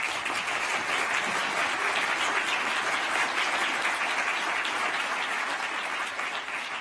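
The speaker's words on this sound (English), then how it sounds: "Let's give him a round of applause for that." A large audience gives a sustained round of applause at an event on ocean protection, a dense, steady roar of clapping that holds evenly loud for about seven seconds with no talk over it.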